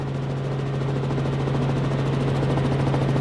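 Helicopter in flight over Fukuoka, heard from inside the cabin as a steady, loud, continuous rotor and turbine drone with a strong low hum, no voices.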